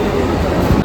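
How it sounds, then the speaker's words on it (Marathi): A Mumbai local train on the Churchgate slow line rumbles in, a brief continuous low roar of rolling stock with no clear talk over it. "चला आले इकडे ट्रेन आता"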